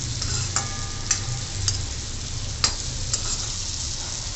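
Phodni tempering for a cabbage bhaji sizzles steadily in hot oil, a soft continuous hiss broken by a few sharp pops and spatters, close and alone with no talk.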